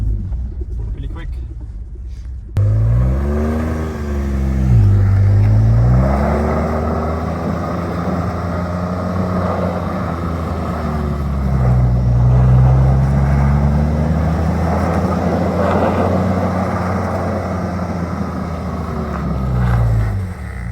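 A Ford F150 Raptor truck powersliding and doing donuts in snow, its engine droning loud and close and repeatedly revving up and down as it swings around.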